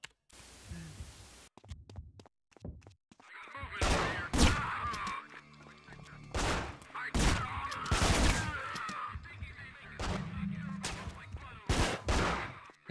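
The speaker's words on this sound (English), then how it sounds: "I didn't see the machine gun" Machine gun fire in the video game Manhunt, loud bursts of gunfire broken by short pauses, with low humming game sound underneath.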